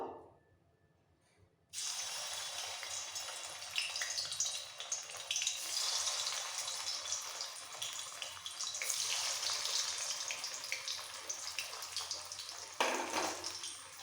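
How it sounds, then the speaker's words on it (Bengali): Cabbage and paneer kofta balls dropped into hot white oil, starting after a quiet moment with a sudden steady sizzle and crackle that holds loud and continuous to the end, no talking. "তেল গরম হয়ে গেছে এবার কোপ্তার বলগুলো ছেড়ে দেবো"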